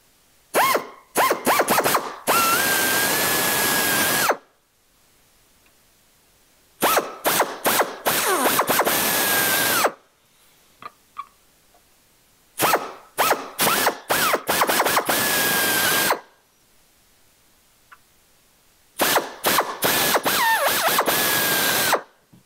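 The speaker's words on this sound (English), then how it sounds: "Then we'll use a step drill to upsize those so we have our corners set." A step drill bores and upsizes pilot holes in aluminum for square instrument openings, heard as four loud, close bursts of whining, chattering cutting separated by silent pauses.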